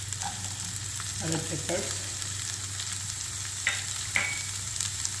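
Cauliflower, broccoli and red and green peppers for vegetable fried rice sauté in a pan, a steady close sizzle with scraping stirs and a few sharp clinks, a brief word spoken over it.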